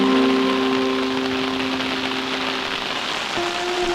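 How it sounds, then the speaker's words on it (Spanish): Steady rain falls after about twenty days of drought in the wild, a dense, even hiss of drops on surfaces throughout, with a faint tonal hum running underneath. "llegó la lluvia"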